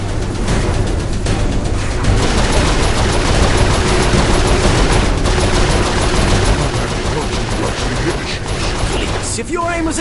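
Sustained, loud turret machine gun fire from the Saints Row IV video game, a continuous dense rattle of rapid shots lasting throughout, with voices talking over it.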